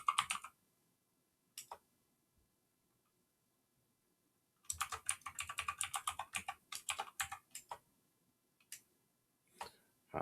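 Keys on a computer keyboard clatter in short bursts with quiet gaps between them, including a dense run of rapid keystrokes, close and soft.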